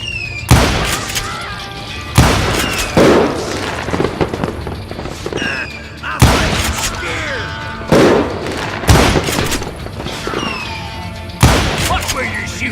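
Repeated loud gunshots ring out in the Call of Juarez: Gunslinger video game, sharp booming blasts spaced a second or two apart amid a steady bed of game ambience and music.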